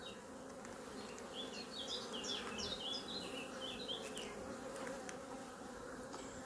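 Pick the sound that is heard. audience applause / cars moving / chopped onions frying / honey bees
honey bees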